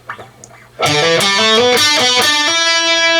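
An electric guitar plays a short clean riff, notes ringing one after another with smooth hammered and slid transitions, loud and close after a brief quiet start.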